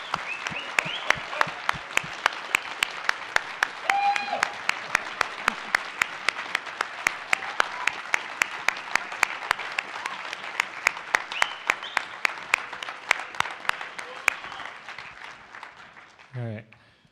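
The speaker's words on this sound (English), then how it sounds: "they deserve way more applause." Conference audience applauding steadily for about 15 seconds, a dense wash of clapping with sharp individual claps standing out, fading out at the end.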